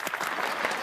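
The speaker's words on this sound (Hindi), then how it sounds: "तालियां।" A brief, dense burst of crowd applause from a studio audience, steady and fairly close, with no clear speech over it.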